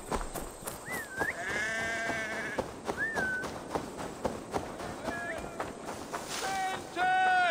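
Sheep bleating in the Assassin's Creed Valhalla video game, several wavering bleats spread across the span, close and clear amid footsteps and game ambience, with a voice speaking in between.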